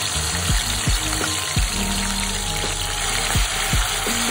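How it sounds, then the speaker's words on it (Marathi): Green chili and garlic paste frying in two spoons of oil in a kadhai, a steady close sizzle with a few sharp clicking knocks, continuous throughout. "2 चमचे तेल कढईमध्ये, त्याच्यात टाकलेलं आहे हिरवी मिरची आणि लसूणची पेस्ट"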